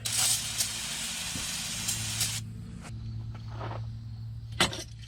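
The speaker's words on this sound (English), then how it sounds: "I'm going to spray this down real quick." A steady aerosol spray hisses loudly for about two and a half seconds during front brake work on a Ford E250 van, followed by a few short bursts over a low mechanical hum.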